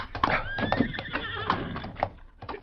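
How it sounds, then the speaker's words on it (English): A horse whinnies with a wavering, rising-and-falling neigh, close and fairly loud, over a busy background with hoof clatter. "Him leave horse over there, Kimasabi."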